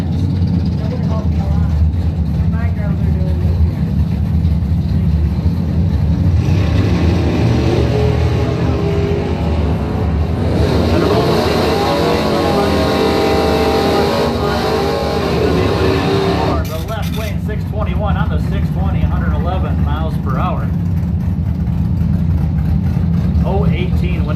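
A 1971 Plymouth Duster and a 1969 SS Camaro square off in a bracket drag race, loud engines roaring and revving throughout at close range with a constant wash of crowd and track noise.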